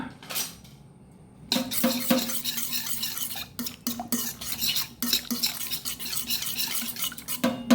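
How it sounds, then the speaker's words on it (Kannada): Spoon stirring and mixing jamun fruit dosa batter in a bowl, with repeated scraping clinks and wet swishes in an irregular rhythm, close and moderately loud, a brief quieter pause near the start. "ಈಗ ಇದಕ್ಕೊಂದು ಚೆನ್ನಾದ ಮಿಕ್ಸ್ ಅಂದ್ಕೊಳೋಣ"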